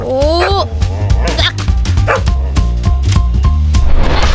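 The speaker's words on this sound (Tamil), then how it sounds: "என்னடா அந்த கார்ல கண்டவி நாய்?" A dog barks, yips and whimpers in short, excited bursts, heard loud and close over background music and other sounds in a Tamil film.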